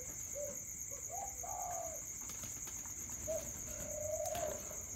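A spotted dove gives several soft, low coos in short phrases, one pause, then a longer drawn coo, heard faintly over a quiet steady background hiss.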